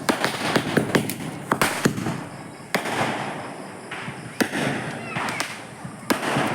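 Diwali firecrackers go off all around a neighbourhood during the Kali Puja celebrations, a rapid series of sharp cracks and bangs at varying distances over a continuous crackle, with some talk in the background.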